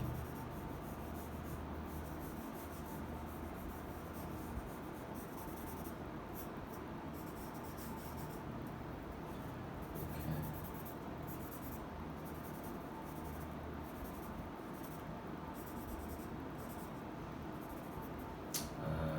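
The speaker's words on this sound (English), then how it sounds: "I'm also going to draw the sofa, I think. Sofa, something like this." A pencil sketches a sofa on paper for a one-point perspective drawing, giving a steady, soft scratching and rubbing that runs close and unbroken throughout, with no talking.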